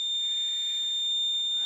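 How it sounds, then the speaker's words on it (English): An electronic buzzer on a model railroad detector gives a steady, continuous high-pitched tone, alone and fairly loud for the whole short stretch, ending abruptly. "I get a buzzer and an LED"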